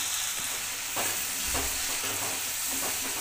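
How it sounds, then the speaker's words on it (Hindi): Chopped onions frying in a pan, a steady close sizzle broken by scraping stirs near the one- and one-and-a-half-second marks. "भुन लें प्याजा भी थोड़ी देर।"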